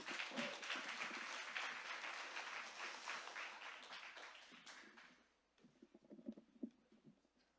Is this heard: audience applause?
yes